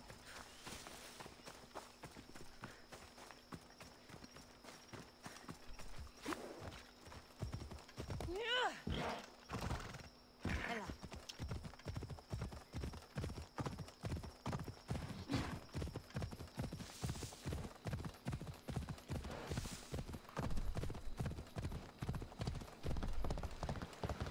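Rhythmic hooves clip-clop at a gallop alongside a couple of whinnying neighs from a horse in the video game Assassin's Creed Odyssey, with a person talking over the steady hoofbeats.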